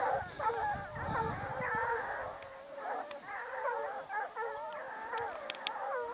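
A pack of hunting dogs howls and yelps together on a hare hunt, a dense, wavering chorus heard from some distance, continuous and overlapping, with a few sharp yips and faint rustling close by.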